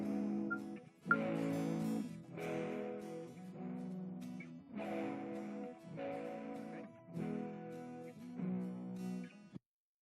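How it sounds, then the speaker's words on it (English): Strummed rhythm guitar layered with bright, jangly Nashville high-strung guitar and a bass line, playing a steady chord pattern before stopping abruptly. "Here's my rhythm guitar and my Nashville high strung."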